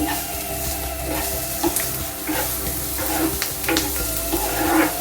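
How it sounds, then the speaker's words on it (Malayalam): Onion sautéing in a pan for an Irani pola snack, with a steady close sizzle and occasional stirring scrapes and taps, continuous throughout. "സവാള നന്നായിട്ട് വഴറ്റിയെടുക്കണം."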